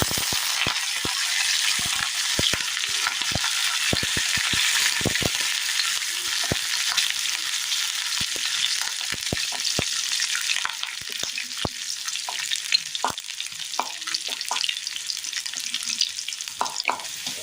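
Mustard seeds, onion and curry leaves sizzle and fry in hot oil in a pan for a Kerala curry tempering, a steady close hiss broken by frequent sharp crackles and pops throughout.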